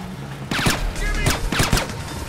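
Several sharp, loud gunshots fired in quick bursts in the video game Splinter Cell: Chaos Theory, close and punchy with brief gaps between them.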